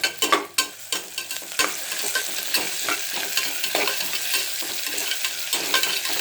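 Onion with ginger garlic paste sautéing in a hot pan, a steady sizzle broken by repeated scraping stirs of a spoon, loud and close, with no talking.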